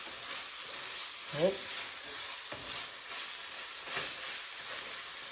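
Shawarma rice frying and being stirred in a pan, a soft continuous sizzle broken by scraping stirs of the spoon, with one brief spoken word near the start.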